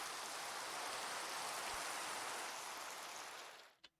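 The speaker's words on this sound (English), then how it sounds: "And of course it's raining." Steady rain falls in the Minecraft Cobblemon game, a dense continuous hiss that holds level for over three seconds, then fades out near the end with a brief click.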